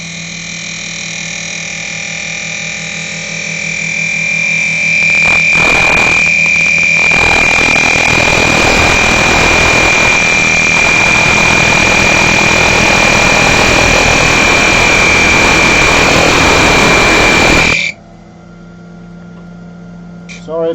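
A wood lathe runs in a small shed as a skew chisel cuts down the side of a turned piece, giving a loud, steady whine and hiss that stops abruptly near the end.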